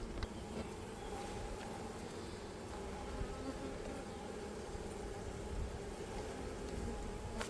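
Honeybees buzz steadily in a small mini mating nuc, a dense, continuous close-up drone with no voices.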